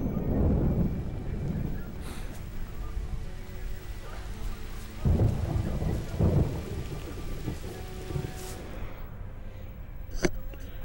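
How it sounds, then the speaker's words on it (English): Steady heavy rain and rumbling thunder from a thunderstorm in the Watch Dogs video game, a continuous wash of rainfall with low booming swells and a sharp crack near the end, with no talk. "it's raining"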